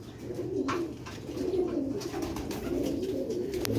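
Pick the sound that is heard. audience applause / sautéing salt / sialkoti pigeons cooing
sialkoti pigeons cooing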